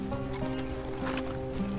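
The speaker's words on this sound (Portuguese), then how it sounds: "Esse é o nosso novo cavalo," Hooves of a seal brown Dutch Warmblood horse clip-clop in a steady rhythm close by, over a constant low hum, with no one talking.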